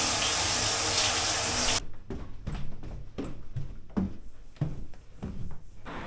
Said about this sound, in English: Ah, that rainfall shower.